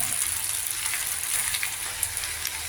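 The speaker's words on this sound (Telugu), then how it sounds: "కొద్దిగా వేగాక మనం మిరపకాయలు వేసుకోవాలి" Red chillies frying in hot tempering oil, a steady close hiss and crackle of sizzling, continuous with no pauses and no voices.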